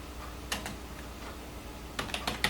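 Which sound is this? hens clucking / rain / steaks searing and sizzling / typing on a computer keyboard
typing on a computer keyboard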